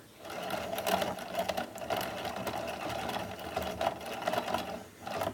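A small motor whirs steadily with a rapid mechanical chatter and slight fluctuations, a Loops and Threads yarn winder clamped down and running close by with no voices.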